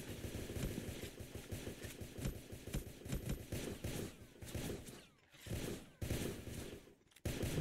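Rapid bursts of video game gunfire crackle almost without pause in a busy online shooter match, dense and loud, with a couple of brief lulls near the end.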